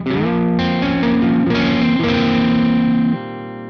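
An electric guitar plays sustained chords through a small lunchbox amp on its clean channel, with a clean, chorus-like shimmer, a few strums ringing out before fading.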